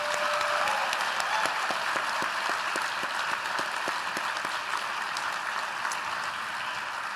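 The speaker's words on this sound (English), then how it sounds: "Let's give our graduates one more round of applause." Sustained applause for graduates at an IB convocation ceremony, a large crowd clapping steadily and evenly without pause, heard from within the hall.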